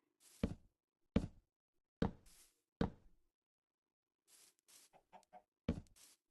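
Chickens in the Minecraft video game give short clucks after a run of four sharp, knocking thumps, with the clucks coming in a quick cluster near the end. There is no speech.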